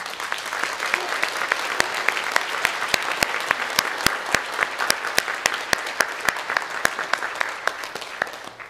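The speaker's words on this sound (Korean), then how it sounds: "박수로 한 번 더 환영해 주시도록 하겠습니다" A room full of people applauds steadily at a Sunday church worship service, with dense clapping and a few sharp, louder claps close by, sustained throughout.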